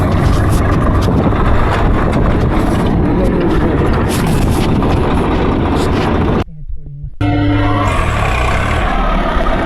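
A tractor hauling a full load rumbles along slowly, its engine droning loud and close with a brief dropout partway through, while a person talks over it.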